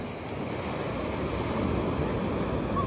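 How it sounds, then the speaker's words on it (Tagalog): Ocean waves wash steadily onto a beach during a seaside outing, a continuous broad surf rush with some wind buffeting the microphone, fairly loud and close throughout. "sarap ng alon"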